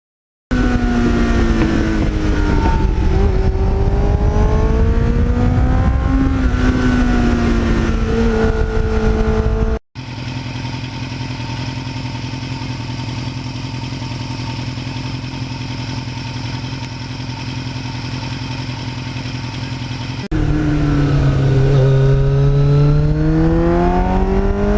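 Kawasaki Ninja motorcycle fitted with a Muzzy exhaust, a 16-inch front wheel, revving hard and loud up close, with rising and falling engine pitch, then a steady droning stretch in the middle before the revving returns; wind noise runs throughout.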